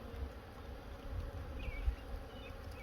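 Honeybees swarming close around an open hive on a cool day, a steady dense buzz with individual bees droning past near the ear, fairly quiet overall and without speech.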